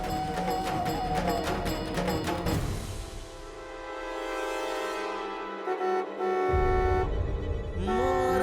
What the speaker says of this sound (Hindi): हॉर्न बजा बजा कर पूरे मोहल्ले को परेशान कर दिया है आपने।